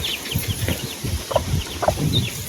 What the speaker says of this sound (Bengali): আর এই মুরগি বাচ্চাগুলো।